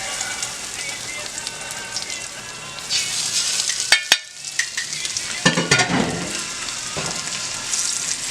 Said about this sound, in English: That's the sizzle that you're looking for right there.